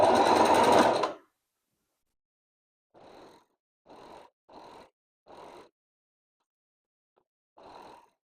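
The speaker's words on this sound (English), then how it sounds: "We'll be sewing along here with the 1 centimeter seam allowance." A sewing machine stitches the side seams of a blouse with a 1 cm seam allowance and a 2.5 stitch length. One loud, steady run comes first, then several short, quieter bursts separated by silence.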